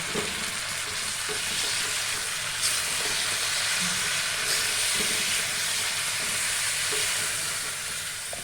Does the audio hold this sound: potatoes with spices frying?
yes